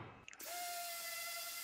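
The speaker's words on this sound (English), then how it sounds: "so I'm sanding it down, getting a nicer feeling" A power sander whirs up and runs at a steady high-pitched drone close by, after a few brief knocks, sanding scrap pallet wood.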